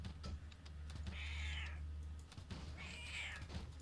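A house cat gives two drawn-out meows about a second apart, fairly faint and close, with light keyboard typing and soft knocks around them.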